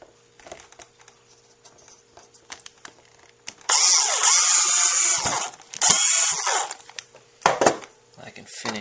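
A power drill drives self-tapping screws during assembly of a RepRapPro Huxley 3D printer, with two loud, sustained whirring bursts in the middle and a shorter one near the end, separated by quieter handling noise.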